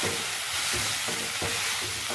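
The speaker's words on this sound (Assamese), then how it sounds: "দি এইখিনি সুন্দৰকৈ লৰাই ভাজি।" Sambar ingredients with turmeric and salt are stir-fried in a pan, giving a dense, steady sizzle with regular scraping stirs about every third of a second, close up and without voices.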